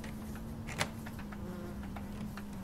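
Insects buzz in the horror game Black Butterfly, a low steady droning hum with faint flickering wing-like flutters and one brief sharp tick, fairly quiet and with no talk.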